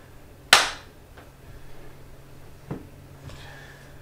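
A single sharp hand clap plays through Skar Audio TX65 6.5-inch car door speakers set up as bookshelf speakers with the subwoofer off, followed by a short decay and a fainter knock later.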